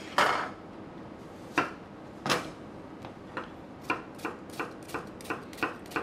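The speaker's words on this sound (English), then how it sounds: "And we will start off by cutting the onion." A knife chops an onion on a cutting board in a cooking demonstration for chili con carne: a few widely spaced, crisp thuds at first, then a quicker, even run of lighter chops, close and clear with no talking.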